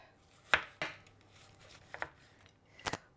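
A knife chopping through red cabbage on a cutting board, a handful of sharp, crisp cuts spaced irregularly with short pauses between them.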